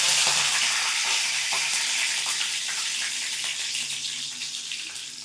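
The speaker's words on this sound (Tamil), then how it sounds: "கருவேப்பிலை பொரிஞ்சிருச்சு." Curry leaves crackling and sizzling in hot oil, a loud, dense hiss with scattered pops that eases slightly toward the end.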